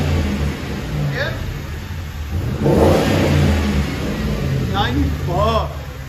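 Ford Crown Victoria Police Interceptor 4.6L V8 with Flowmaster true dual exhaust revving: a deep, loud idle rumble swelling into a strong rev and settling back, with people talking over it.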